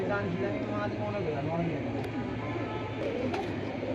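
Pigeons coo in a dense, continuous chorus at a pigeon sale. The cooing sits under steady crowd noise and indistinct voices.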